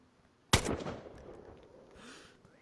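A single loud, close unsilenced gunshot rings out in the DayZ video game, with a long echoing tail that fades over the next two seconds.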